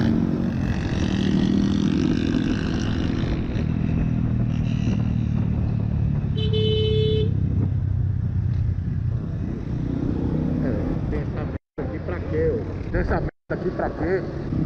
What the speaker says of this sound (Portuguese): Observe este motor, cara.